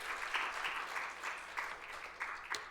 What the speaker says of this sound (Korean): 우리 하나님 앞에 큰 박수의 영광을 돌립시다